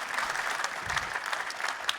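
An audience at a Ceph storage conference keynote applauds with a steady, even wash of many hands, moderately loud throughout.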